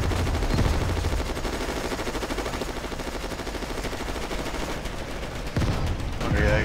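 Gunfire in WWII Online, rapid continuous machine-gun bursts at close range, loud and sustained through the whole stretch with a brief break near the end.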